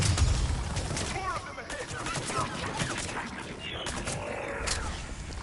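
Pistol fire from a horde-shooter video game on insanity difficulty, a dense run of sharp shots and impacts layered over busy combat noise and creature sounds, steady and loud throughout.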